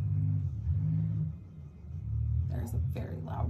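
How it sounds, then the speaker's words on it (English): A very loud car passes outside, a low rumbling engine swell that builds and fades under nearby talking. "a very loud car."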